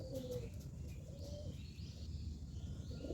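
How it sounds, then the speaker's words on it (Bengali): Pigeons on a rooftop where they nest and feed give soft, faint cooing calls against a quiet outdoor background. "এখানে পায়রাগুলো খাবার খাওয়া শুরু করছে আস্তে আস্তে পায়রাগুলো"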